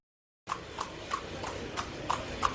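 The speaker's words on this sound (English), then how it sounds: "you guys can't come through the drive-thru on horses" Horse hooves clip-clopping at a fast-food drive-thru, a steady run of sharp, evenly spaced hoof strikes starting abruptly, moderately close and alone without talk.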